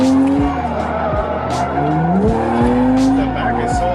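A car with a new angle kit drifting, engine revving and rising in pitch while tires squeal and skid loudly and continuously, close up, with repeated throttle swells.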